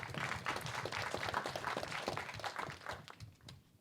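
An audience at an AI venture capital panel event claps for a sponsor, a dense patter of many hands that stays fairly faint and steady before thinning out toward the end.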